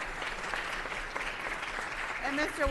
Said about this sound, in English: I'll give them one more round of applause